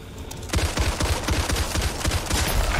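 Rapid automatic gunfire in the zombie shooter Back 4 Blood, aimed at tentacles, with a dense burst of repeated loud shots starting after a short quiet lead-in and continuing without pause.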